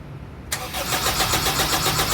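A 2003 Honda CR-V with a no-start fault cranks with its starter. It gives a sudden loud whirr, then a steady, pulsing churn close by that goes on without catching.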